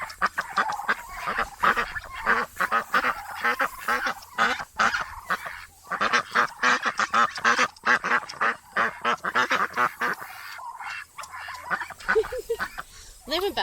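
A flock of farm ducks being herded quacks and honks continuously and loudly at close range, with overlapping calls in dense bursts that rarely pause. People talk occasionally in the background.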